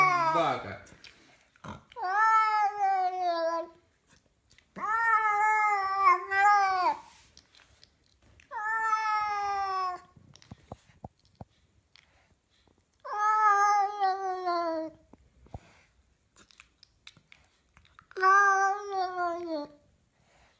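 A cat gives five long, drawn-out meows spaced every few seconds, each rising and bending in pitch like a voice calling someone's name, clear and close against a quiet room.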